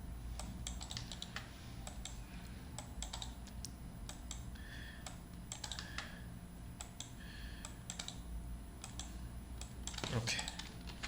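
Computer keyboard keys tapped while working in Maya 3D software, a steady run of light, close clicks and short bursts of typing under a faint background hum.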